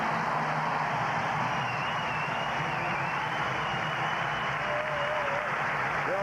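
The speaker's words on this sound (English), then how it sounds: "If he does, he's going to get a thunderous applause." Thunderous applause from a crowd of about 10,000 at a 1982 North Carolina versus Duke college basketball game, a steady dense roar of clapping and cheering that holds at a constant level throughout, with a faint whistle-like tone drifting above.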